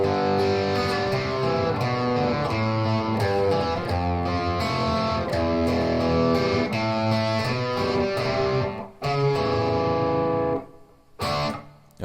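Overdriven electric guitar plays a song's solo, fingered in or near first position, in a busy, steady melodic run that cuts off near the end before a brief final note, loud and alone.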